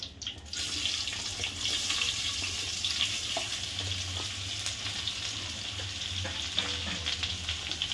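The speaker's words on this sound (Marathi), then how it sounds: "त्यात कांदा टाकते." Onions frying in a pot being prepared for a chicken dum biryani, giving a steady broad hiss and sizzle that runs continuously at close range with no talking.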